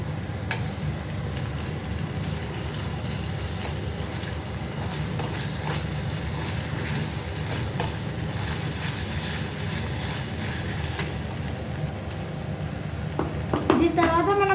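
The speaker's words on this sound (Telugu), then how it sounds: "ఇప్పుడు దీంట్లోకి మనము జింజర్ గార్లిక్ పేస్ట్ వేసుకొని మిక్స్ చేద్దాం." Ginger garlic paste being stirred into softened frying onions for a broccoli dish, a steady loud sizzle with continuous scraping of the spoon throughout, no talking.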